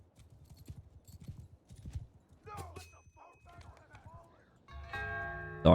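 Cavalry horse hooves in a medieval video game battle, with heavy horse charging; busy rapid clip-clop under clashing noise, with a brief whinny, building to a loud burst near the end.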